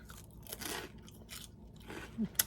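Crunchy cheddar-flavored Smart Fries potato snack being bitten and chewed up close, with a few crisp crunches and crackles spread over a couple of seconds, the sharpest bite near the end.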